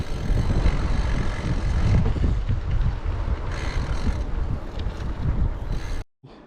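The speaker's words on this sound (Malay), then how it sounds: "Angin kuat sangat." Strong wind blows outdoors beside a graveyard with red buildings. It buffets loudly as a continuous roaring, rumbling rush with surging gusts, then cuts off abruptly near the end.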